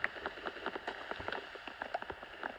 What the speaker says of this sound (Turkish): Yağmur yağıyor arkadaşlar şu an.